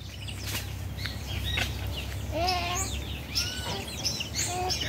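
Small birds sing on a Brazilian farm, bright chirps and short warbling phrases coming and going at moderate distance over a steady low rural hum, with no talking.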